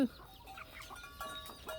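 Chicken clucking in a farmyard, soft, scattered short calls spread across a couple of seconds at a distance, with faint background noise.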